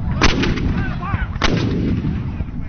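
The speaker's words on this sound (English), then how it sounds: "The Confederates now begin a general shelling of the Federal lines." Confederate artillery shelling Federal lines at Gettysburg in the Civil War, with two loud booming cannon blasts about a second apart over a steady rumbling background.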